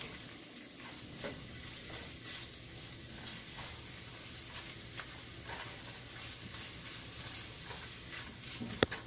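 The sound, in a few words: garlic and onions being stirred and sizzling in a pan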